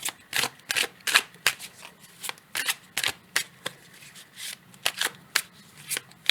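Playing cards are shuffled for a tarot-style card reading, producing a run of crisp riffling bursts and slaps in an uneven rhythm, close and fairly quiet, with no talking.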